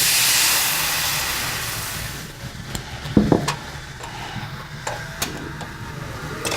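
South Boston Irish whiskey poured into a hot pan with the flame off, giving a strong steamy hiss that fades over a couple of seconds, followed by faint clinks and scattered small sizzles.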